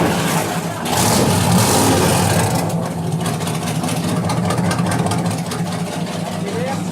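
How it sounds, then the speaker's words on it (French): A Corvette C3 with a 350 hp V8 starts up and revs, a loud, rough roar that swells and then settles into a steady rumbling idle. People talk over it. "Corvette, C3. C'est un V8."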